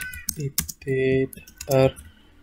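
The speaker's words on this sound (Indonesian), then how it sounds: "Sekarang kita ketik SMP" Keys clack on a computer keyboard in short quick bursts of typing, close and fairly loud, while a voice speaks over and between the keystrokes.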